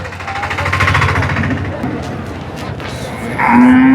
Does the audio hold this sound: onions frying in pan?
no